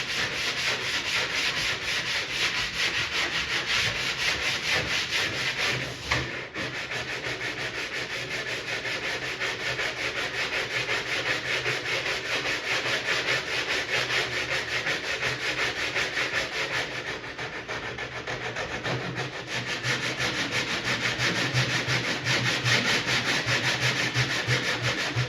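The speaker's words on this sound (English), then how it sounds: "I gotta go around the edges again with my 80 grit on my sanding block" Particle board edges hand-sanded with an 80 grit sanding block on an arcade cabinet, a continuous rough rhythmic scraping of quick back-and-forth strokes, close and steady for the whole stretch with only brief pauses.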